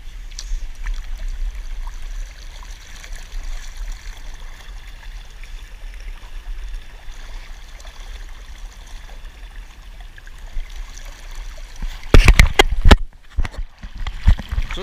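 Steady rushing water from a rip current running beside a barge in the ocean, heard from a small kayak, a continuous low wash and gurgle, with a burst of louder splashing near the end.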